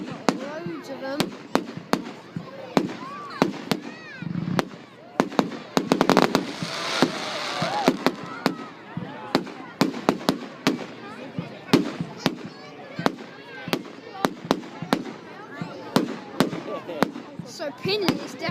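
Bonfire night fireworks burst in a long, irregular barrage of sharp bangs and crackles, some close and loud, with a dense cluster midway and people talking and reacting between the explosions.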